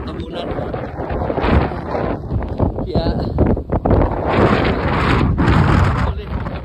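Strong wind roars and buffets the microphone in loud, gusting waves during snowfall, with a person talking over the noise.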